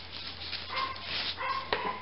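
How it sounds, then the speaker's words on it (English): Dogs bark indoors at a moderate distance, with several short yaps scattered through the clip and a sharper bark near the end, over a faint steady hum. "And my dogs are still going crazy."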